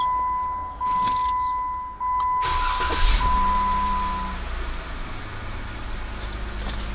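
A Jeep Wrangler started by remote starter: a steady tone and beeps first, then the engine cranks and catches into a low, even idle, close by with no talk.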